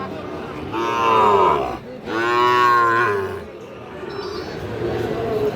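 Sahiwal and Nepali Gir cattle at a farm market give two long, loud moos close by, followed by quieter grunting and background murmur.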